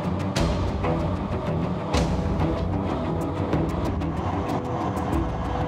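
A train rumbles steadily past at close range, a loud continuous roar with repeated sharp clacks and knocks spaced through it, as if heard from on or beside the moving train.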